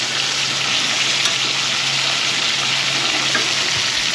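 Food frying in a pan, a continuous close sizzle and crackle with a faint clink near the end, with no talking.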